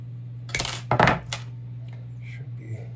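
Copper wire being cut into three pieces gives a few quick, sharp metallic clicks and snips close by against a quiet low hum.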